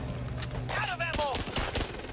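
Rapid bursts of gunfire from the co-op zombie shooter Back 4 Blood crackle through the whole stretch, dense and overlapping, with a voice briefly heard among the shots.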